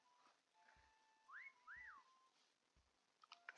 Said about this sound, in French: Siffle un peu.